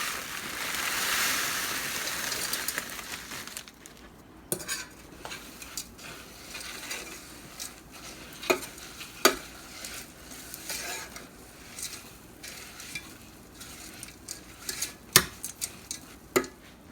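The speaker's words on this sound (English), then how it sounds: "And now stir in your crushed pretzels." A spoon scrapes and taps against a bowl while crushed pretzels are stirred into a mixture for a strawberry pretzel salad crust, a soft granular rustle broken by scattered clinks, close and without talk.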